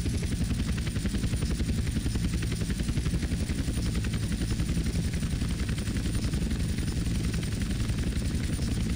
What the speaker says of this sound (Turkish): Helikopter manevra yapmaya çok müsait değil.